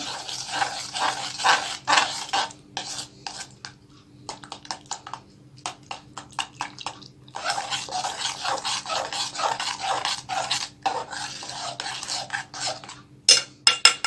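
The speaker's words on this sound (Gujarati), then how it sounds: "અને કોર્નફ્લોર એડ કરી દઈશું મિલ્કમાં, બરાબર મિક્સ કરશું" Cornflour, powdered sugar and milk being stirred together for homemade ice cream, heard as repeated scraping and rasping strokes of a utensil against the bowl, in steady bursts with short pauses.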